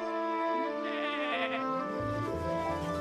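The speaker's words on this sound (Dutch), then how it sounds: "Blaat Lolly het lammetje." A lamb bleats in a long, wavering, nasal cry that is close and loud, heard alone without talk.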